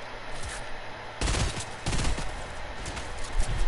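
Gunfire in a video game shooter, rapid cracking bursts of shots in quick succession, loud and sustained after a brief quiet start, with faint ambient hiss beneath.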